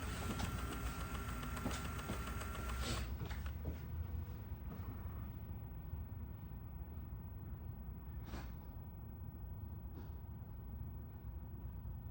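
A Sony Handycam PRO VX3 Hi8 camcorder rewinds its tape, giving a steady close mechanical whir and hum with a faint high whine that drops away after a few seconds, leaving a low motor drone and light clicks.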